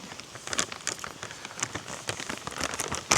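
Heavy November rain pours during stormy fall camping in a teardrop trailer, a steady dense patter of drops striking surfaces, with louder close splats scattered through and no talking.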